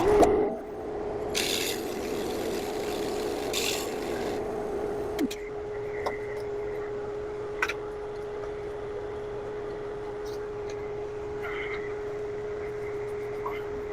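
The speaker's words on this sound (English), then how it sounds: "I'm going to turn on my dust collection system and then do the first hole." A drill press spinning a Forstner bit to bore a hole in a wooden charcuterie board, a steady motor hum with scraping wood noise and a dust collector running alongside.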